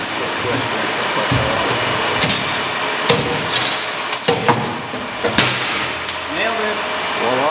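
A few sharp, loud hammer blows drive nails at close range, struck irregularly over a background of shuffling noise, with brief voice sounds near the end.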